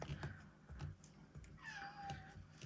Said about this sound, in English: He meows a lot.